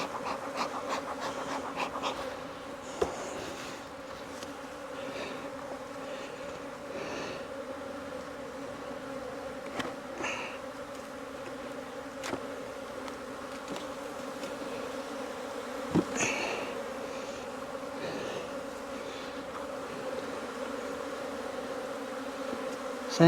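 Honeybees in an open, strong hive full of brood frames, a steady dense buzzing hum throughout, close and moderate in level, with a few faint knocks and handling sounds.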